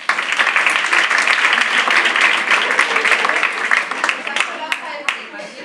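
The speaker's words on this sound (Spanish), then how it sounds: "Pues recibamos con un aplauso." An audience at a comparative law lecture in Madrid applauds to welcome a professor to the podium: loud, dense clapping that holds steady, then thins into scattered claps near the end.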